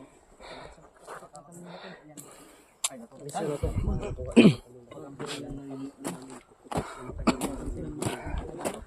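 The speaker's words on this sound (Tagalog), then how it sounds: "kahit may ubo tayo" A few coughs and throat sounds break up quiet outdoor chatter, with one louder cough standing out midway.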